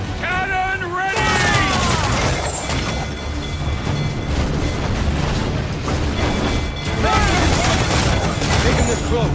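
Ship cannon fire during a naval battle in Assassin's Creed 4 Black Flag, with several booming blasts and mechanical clanks amid shouted voices and game music.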